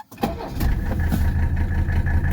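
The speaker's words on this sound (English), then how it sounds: "Let's do a cold start." A 1984 Mercedes 300D diesel engine cold-starts: a brief crank, then it catches abruptly and settles into a loud, steady clattering idle close by, with no voices.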